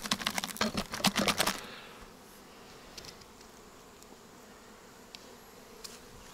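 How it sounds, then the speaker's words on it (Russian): A burst of rapid buzzing and clicking from wasps up close at an apiary for about a second and a half, then a faint, steady background with occasional small ticks. "И осы там есть тоже"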